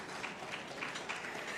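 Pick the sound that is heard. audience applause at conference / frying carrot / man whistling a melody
audience applause at conference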